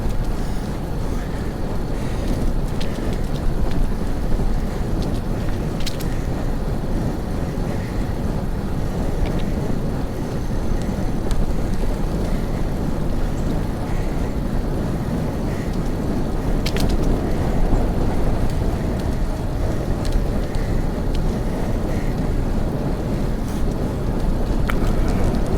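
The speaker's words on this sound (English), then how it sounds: "Bit of a headwind." Strong, steady wind buffets the microphone during a canoe trip on a river toward Falls Dam, a continuous low roar and rumble with faint water and paddle noises, no voices.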